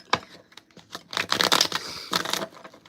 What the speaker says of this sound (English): Let me give this a good shuffle for you here, Cappy.